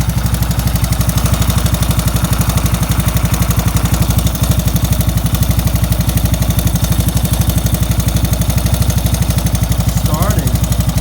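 A 1984 Honda ATC 200s three-wheeler idles right after its first start, a loud, steady, close-up single-cylinder putter with an even rapid pulse throughout, unchanging in pace.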